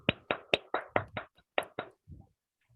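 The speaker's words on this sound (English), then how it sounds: "Let's give a thunderous applause." A handful of claps and hand taps from online meeting participants, about eight sharp, uneven strikes in quick succession, then a couple of softer thuds and quiet.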